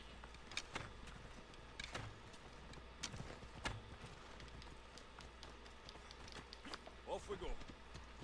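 A horse's hooves clip-clop in Assassin's Creed Odyssey on PlayStation 4, a steady series of sharp, fairly soft knocks at a walking pace over quiet game ambience, with a voice talking alongside.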